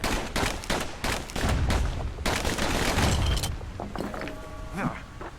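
Twin slinger pistols in the video game Bastion fire a rapid volley of sharp cracks, with heavier booming impacts mixed in, loud and close, as a voice narrates over the shots.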